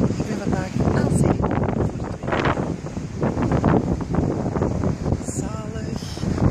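Strong seaside wind buffets the microphone continuously, a loud broadband rush with gusting swells, while someone talks over it.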